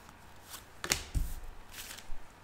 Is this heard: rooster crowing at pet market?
no